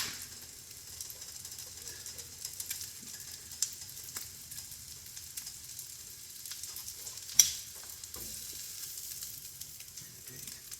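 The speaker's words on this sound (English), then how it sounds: "it gets a more even toast, and it also speeds up the toasting process" Sandwich bread for a roasted pork loin sandwich sizzles in a pan while being pressed down, giving a soft, steady, close frying hiss with an occasional faint scrape or tap.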